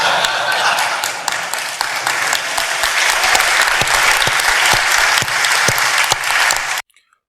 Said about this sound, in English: They clapping.